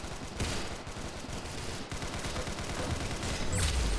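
Rapid gunfire in a video game crackles in dense, continuous bursts, loud and close.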